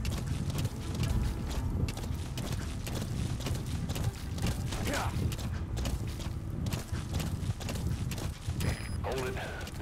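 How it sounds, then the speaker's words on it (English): A horse gallops in the video game Metal Gear Solid V with a steady rhythm of hooves, set under game audio and voices talking in the background. "You can press square to go faster on your horse."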